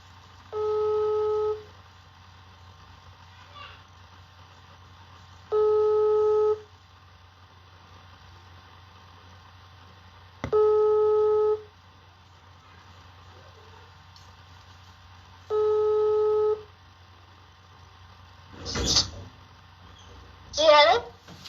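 Repeating telephone ringback tones for an outgoing call, four evenly spaced beeps about five seconds apart, clear and fairly loud, followed by brief clicks and handling noise as the line connects.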